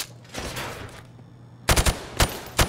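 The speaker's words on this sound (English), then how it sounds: "I want to see you fire from the hip." Hip-fired gunshots in Call of Duty: Modern Warfare Remastered, a loud close burst of four or five sharp reports after a stretch of rumbling game ambience.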